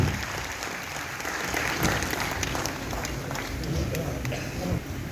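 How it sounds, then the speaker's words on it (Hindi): A crowd at a Hindi comic poetry gathering claps in welcome as a poet is invited to perform a Saraswati invocation, a sustained wash of applause with a voice speaking over it. "जोरदार तालियों से स्वागत"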